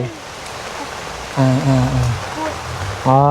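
Steady rain hisses evenly in the background while someone talks over it close up in several short bursts.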